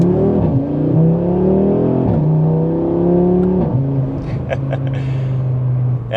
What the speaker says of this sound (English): with this combination, you hear more of that screaming V10 soundtrack